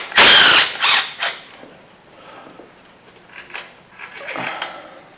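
Close mechanical creaks and metallic ratcheting as a bolt is worked loose on a Mustang engine during a leaking-valve repair, a few sharp bursts at the start, then quieter scraping movements.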